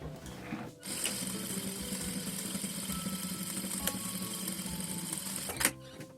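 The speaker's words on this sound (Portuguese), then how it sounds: "E passo uma costura aqui em toda a volta com o pé de máquina" Sewing machine running a continuous seam all around a fabric zip pouch with a ruffled flap, a steady close whir that starts after a short pause and stops near the end, with no talk.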